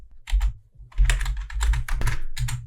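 Keystrokes on a computer keyboard while an HTML form is being coded, arriving in quick irregular bursts with short pauses between them, close and clear with no talking.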